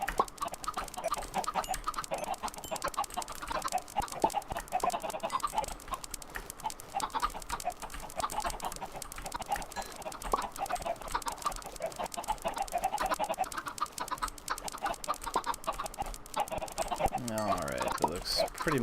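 Chickens cluck repeatedly in a Minecraft modpack, Drugcraft, their scattered game clucks running on at moderate volume with small clicking sounds mixed in.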